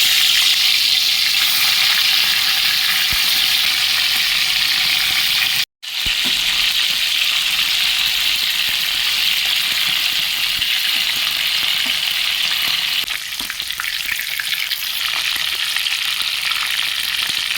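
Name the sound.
fish frying in oil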